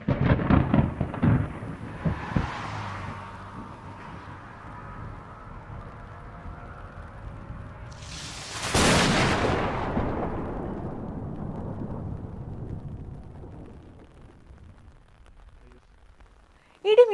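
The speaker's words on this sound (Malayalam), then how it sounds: "ഇടിമിന്നൽ കണ്ടോ? എങ്ങനെയാണ് ഈ ഇടിമിന്നൽ ഉണ്ടാകുന്നത്?" Thunder in an animated thunderstorm: a low rolling rumble builds, then a sharp loud crack of lightning strikes midway and fades into a long dwindling rumble.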